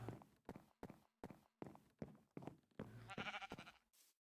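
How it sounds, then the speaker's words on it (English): Sheep mobs in Minecraft Sky Factory 3 bleat over a steady run of evenly spaced footstep thuds, the bleats growing more prominent toward the end. "Oh, there's 2 sheep."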